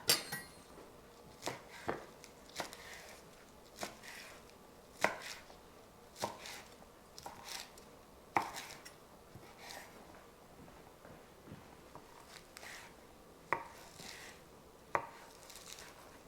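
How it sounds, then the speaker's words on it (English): A knife slices through stacked beet leaves on a cutting board, giving sharp, irregular chops, some in quick bursts and others spaced apart, fairly quiet against a soft room background with no talking. "So I'm just going to stack these leaves and cut them up."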